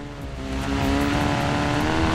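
In Forza Horizon 4, a car engine rises from quiet into a loud, sustained high rev with a steady tonal whine holding for a couple of seconds, nobody speaking.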